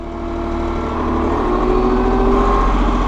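A Massey Ferguson 1735M compact tractor engine with the PTO engaged, its steady mechanical drone climbing slowly in pitch and loudness as the revs rise, close and continuous with no talk.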